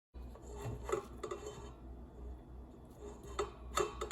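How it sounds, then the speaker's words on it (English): A cloth or towel wipes out a mixing bowl before meringue is whipped, making soft rubbing swishes broken by a few light clinks and taps of metal against the bowl, close and quiet. "So I'm just gonna go ahead and wipe this out."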